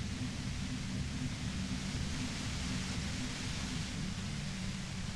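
Dense, steady white noise hisses evenly across the whole stretch in the Disco Elysium video game, loud and unbroken with no talk over it.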